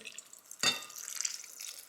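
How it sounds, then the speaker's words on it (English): Liquid jelly poured from a container over strawberries and sponge in a bowl, a quick splashing pour followed by faint trickling and dripping. "we're going to pour the jelly"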